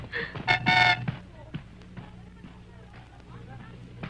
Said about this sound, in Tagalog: busina ng busina dito